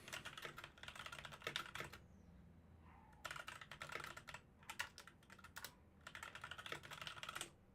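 Rapid typing on a computer keyboard in bursts, with clear pauses between runs of close, crisp key clicks over a quiet room background.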